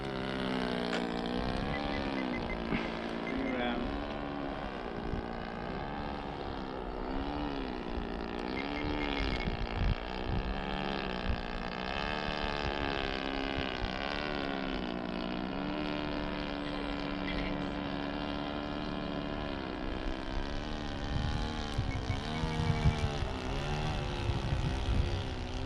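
A Tiger Moth model airplane powered by a 0.65 nitro four-stroke engine drones continuously in flight, its buzzing pitch rising and falling as it passes, with wind noise and no talking.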